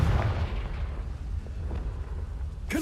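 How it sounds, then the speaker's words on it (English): A Confringo spell explosion in Hogwarts Legacy lands as a heavy, rumbling boom at the start, then settles into a low rolling roar; a brief sharp burst sounds near the end. "Confringo!"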